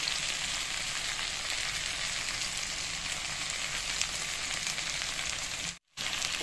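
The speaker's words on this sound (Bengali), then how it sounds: "আপনারা বেগুনটা দিয়ে দেবেন আর পেঁয়াজটাও দিয়ে দেবেন, দিয়ে ভেজে নেবেন" Eggplant and onion frying in a pan with potatoes, a loud, steady close sizzle that runs without a break until a brief drop-out near the end, with no voices.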